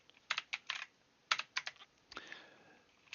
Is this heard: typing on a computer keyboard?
yes